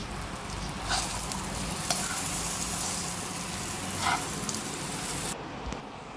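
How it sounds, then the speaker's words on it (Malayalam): Brinjal pieces deep frying in oil, a loud steady sizzling hiss with a few louder crackles and stirring touches, cutting off abruptly near the end. "ബാക്കി കുറച്ചിരിപ്പുണ്ട്, നമുക്കതും കൂടെ വറുത്തെടുക്കാം."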